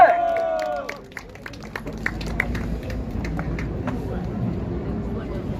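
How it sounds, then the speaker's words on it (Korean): An audience claps at a 65th-anniversary commemoration ceremony for May 16. The scattered clapping is fairly faint and continues steadily after a brief voice at the start. "박수 한번 주세요"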